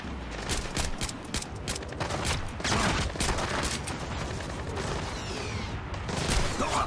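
Rapid gunfire in Splinter Cell: Blacklist, a dense run of sharp shots and bursts repeating throughout at steady loudness, mixed with game effects and no talk.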